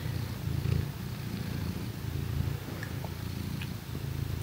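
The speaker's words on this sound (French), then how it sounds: "Vas-y, ronronne mon bébé." A pet cat purrs close by during a quiet evening reading session indoors, a soft steady low rumble running continuously.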